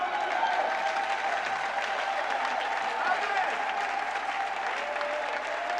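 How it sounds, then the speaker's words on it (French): A church congregation at a Sunday convention in Belgium applauds in sustained, even clapping with voices mixed in, steady and fairly close throughout. "Est-ce qu'on peut acclamer Jésus?"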